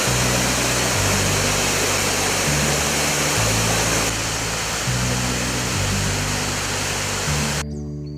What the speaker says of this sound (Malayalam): പാറക്കെട്ടുകൾക്കിടയിലൂടെ കുത്തിയൊലിച്ചിറങ്ങുന്ന വെള്ളച്ചാട്ടം